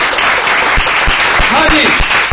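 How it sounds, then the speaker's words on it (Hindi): A congregation at an evangelist's gathering claps hard and continuously, loud close applause with a few rhythmic thumps beneath it and faint voices mixed into the din. "एक दफा फिर जरा तालियां बजाएं, जोर से, जोर से"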